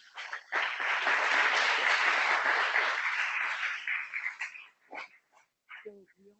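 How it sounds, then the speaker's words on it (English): Conference audience at a labor justice symposium clapping in a sustained round of applause for several seconds, then tapering into scattered claps and a brief voice. "And let's give him a round of applause."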